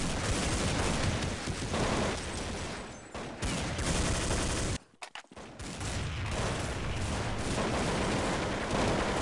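Counter-Strike 1.6 gunfire rattles in dense rapid bursts, loud and continuous, with a brief silent gap in the middle before the shooting resumes.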